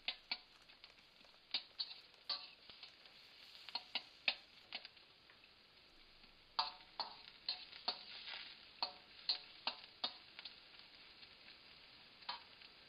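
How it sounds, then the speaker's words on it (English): Chicken fried rice with onion being stirred in a pan, a soft background sizzle broken by frequent sharp clicks and taps of a utensil against the pan in an irregular rhythm, with no talking. "And stir around."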